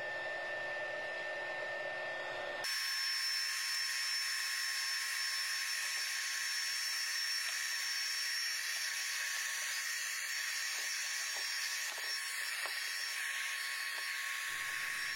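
A heat gun blowing hot air to shrink a heat-shrink sleeve over a 4S–6S li-ion battery pack: a quiet hum at first, then a loud, steady close-up hiss and whir that runs unbroken to the end.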